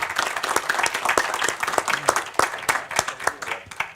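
Audience applause at the close of a Chilean health-policy seminar on ISAPRES, dense steady clapping from a sizeable crowd filling the room, with sharp individual claps standing out and no talk.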